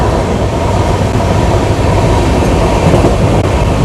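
Chennai superfast sleeper class train rolling at speed, a steady loud broadband rumble of wheels and carriage noise throughout with no let-up, heard from inside the coach.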